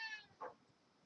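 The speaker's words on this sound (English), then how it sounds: "can you hear my cat meowing? He's talking to me." Barney, a pet cat, gives two short, faint chirping meows in quick succession in a quiet room.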